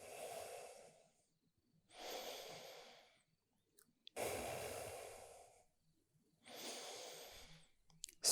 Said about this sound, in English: Breathing deeply and slowly.